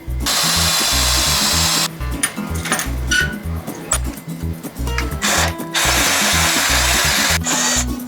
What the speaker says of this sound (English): Hole saw time.